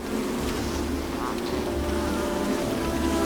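Bees buzzing in a steady, continuous drone that holds for the whole stretch, close and fairly loud, with no voices over it.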